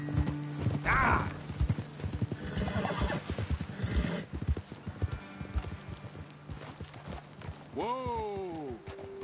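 Horses clip-clop along in Red Dead Redemption 2, hooves thudding steadily under talk before a loud, clear whinny rises near the end.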